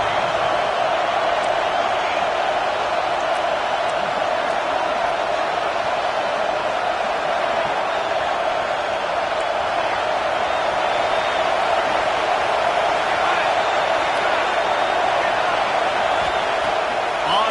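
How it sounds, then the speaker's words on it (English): A home crowd at a football game roars loudly and steadily, a continuous wall of noise under a commentator's voice. "And how nice is it to have the home crowd going absolutely bananas?"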